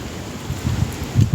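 Strong wind buffets outdoors, with gusty low rumbles and bursts of microphone wind noise over a continuous airy hiss, rising in uneven surges.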